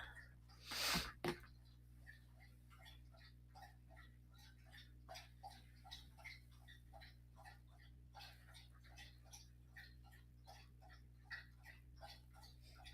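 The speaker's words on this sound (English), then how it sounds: "You might hear my dog slurping." A dog laps water from a bowl, producing a steady run of quick, wet clicking slurps close to the microphone, fairly soft, opening with one louder snort-like burst.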